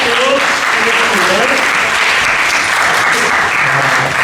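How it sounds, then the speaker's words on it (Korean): A church chapel audience applauds the lead pastor, steady loud clapping filling the room for several seconds, with some voices mixed in underneath. "대표관장님에게 큰 박수로 드리겠습니다"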